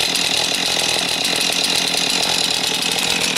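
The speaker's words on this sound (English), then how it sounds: "Chainsaw has to warm up sometime." A chainsaw warms up before cutting a rotten tree, its engine holding a loud, steady, buzzing idle close by with no pauses or speech.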